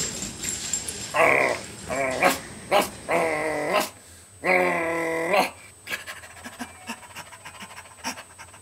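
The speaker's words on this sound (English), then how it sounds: "Bark, bark, bark, bark." A playful dog pants heavily, with growls and short barks breaking out in bursts while it plays with a toy, loud and close, followed by quieter panting.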